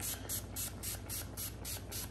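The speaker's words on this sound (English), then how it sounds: "and just spray it on." Short repeated hissing bursts of an aerosol adhesive residue remover being sprayed onto car paint, about eight quick, even pulses, quiet and close, with no talking.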